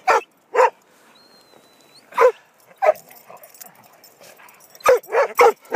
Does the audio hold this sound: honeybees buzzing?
no